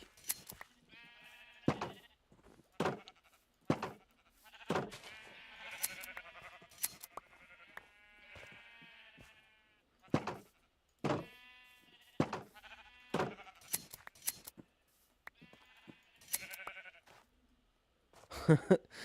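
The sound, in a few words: escaped sheep bleating in the video game Minecraft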